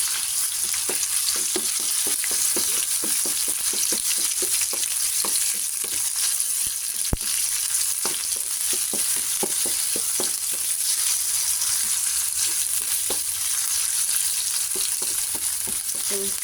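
Ground chicken giniling fries in a pan with sayote, making a continuous bright sizzle and crackle, with repeated light utensil taps and stirring scrapes throughout, no speech.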